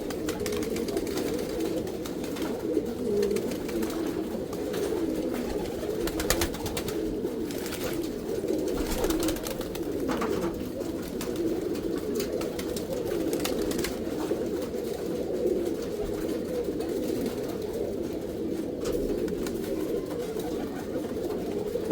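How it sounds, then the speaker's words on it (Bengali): Pigeons coo in soft, repeated low calls over a steady background, with occasional small flutters and taps as birds land and drink water, close by and without speech. "এখানে আরও একটি কবুতর কিন্তু নামলো ও পানি খাইলো"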